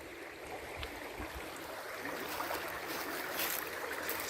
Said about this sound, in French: Alors on écoute un petit ruisseau d'eau.